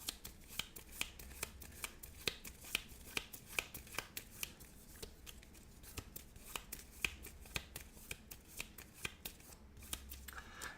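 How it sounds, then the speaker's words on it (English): A deck of cards is shuffled during a Marvel Champions card game, producing rapid crisp riffling clicks and snaps in an irregular rhythm, close and fairly quiet. "we'll shuffle that back in"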